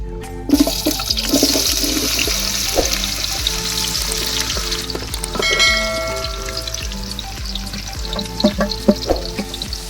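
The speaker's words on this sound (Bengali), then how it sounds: "কেটে রাখা পেঁয়াজগুলো এবার আমি দিয়ে নিচ্ছি" Chopped onions hit hot oil in a pan for Afghani mutton Kabuli pulao, bursting into a loud, close, steady sizzle with rhythmic spatula scrapes and knocks against the pan throughout.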